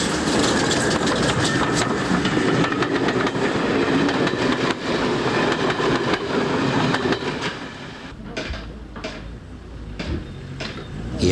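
A train rumbles past close by with a steady roar and rhythmic clatter of wheels, fading slightly toward the end.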